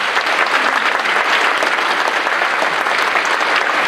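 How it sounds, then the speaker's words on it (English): Audience applauding a middle school grades 6-8 fall band concert, a dense, steady wash of many hands clapping close and loud for the full four seconds, with no talk over it. "Let's clap for them one more time"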